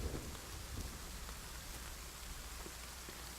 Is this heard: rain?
yes